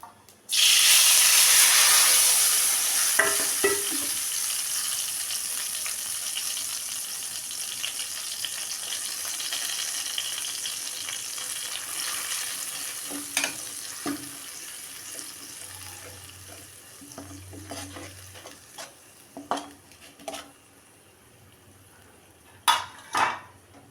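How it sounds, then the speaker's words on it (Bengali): Mustard paste mixed with coriander, cumin, green chilli and turmeric powder is lightly fried on a low flame for a pabda fish curry: a strong hiss at first that settles into a softer sizzle, with scattered utensil clinks. "এই জন্য হালকা একটু কষিয়ে নিচ্ছি, কম আঁচটা কম করে"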